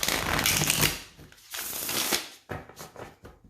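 Tarot cards are shuffled up close in three quick riffling bursts, each a crisp flutter of cards that fades before the next.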